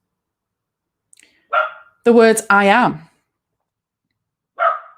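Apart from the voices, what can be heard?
dog barking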